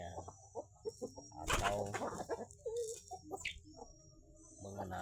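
Free-range village chickens clucking and calling at close range, with irregular short bursts and one louder squawk, over a low background hum.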